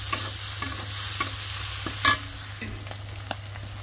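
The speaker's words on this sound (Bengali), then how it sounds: "একটু হলুদ দিয়ে দিচ্ছি। তো একটু ভাইজা নিই ভালো করে।" Small shrimp fry with turmeric in a pan, giving a soft steady sizzle broken by the scrape of a spatula stirring, including one louder clatter midway.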